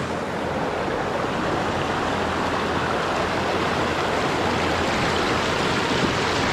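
A riverside stream flows steadily, a broad continuous rushing wash of water, close and even throughout with no voices.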